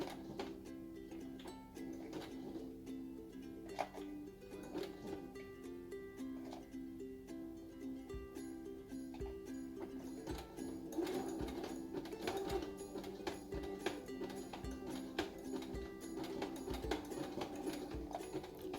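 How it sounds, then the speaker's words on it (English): Sewing machine zigzag-stitching over a wire strip on a reversible fabric facemask, a steady close mechanical hum with fine repeated needle clicks running throughout, no talking. "I'm going to stitch right on top of the wire in a zigzag."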